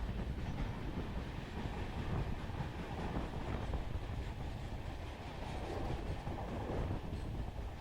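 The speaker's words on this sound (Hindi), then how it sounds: "ट्रेन भी ज़्यादा स्पीड से नहीं चल रही, घाट सेक्शन होने के कारण" A train rolls slowly through a forested ghat section in the Vindhya range between Bhopal and Itarsi, with a steady rumble of wheels and faint clatter under wind noise.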